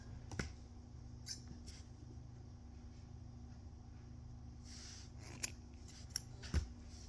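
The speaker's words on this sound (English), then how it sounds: "We'll cut the end." Scissors snipping through the end of yarn while making a crocheted fox ear, a few quiet close clicks and snips over a low steady background hum.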